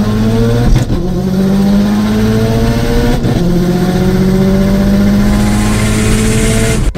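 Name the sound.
big turbo Subaru STI launching and accelerating on a run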